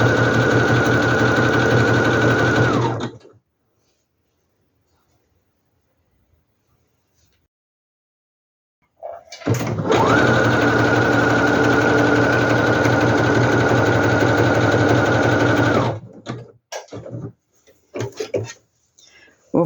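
Sewing machine stitching geometric-print fabric for a handbag, a loud close rhythmic whirring run, then a long silence, then a second long stitching run ending in a few short stops and restarts.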